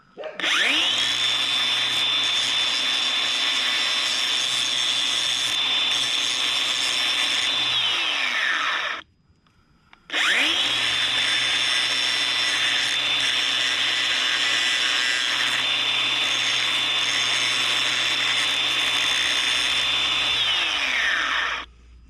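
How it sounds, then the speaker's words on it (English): Angle grinder grinding down a steel axle key in two long passes, each a loud, high whine with harsh metal-on-metal rasp that spools up, holds steady for about eight seconds and winds down, with a short quiet gap between. "So I got my angle grinder. I'm gonna round over the one end and then cut it off a little bit"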